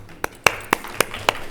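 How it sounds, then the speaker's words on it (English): Applause at a fintech conference panel comes through as a handful of sharp, separate claps spaced roughly a quarter second apart, crisp and close rather than a full crowd roar. "give them a round of applause"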